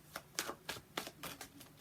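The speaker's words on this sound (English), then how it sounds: "Let's just shuffle these very quickly." Tarot cards shuffled quickly by hand, a faint run of soft, rhythmic riffling flicks repeating about every quarter second, close and alone.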